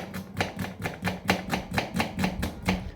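Green chilli, garlic and onion being finely chopped with a knife on a board at home, a steady run of about a dozen crisp, evenly spaced strikes, close and clear with no talking.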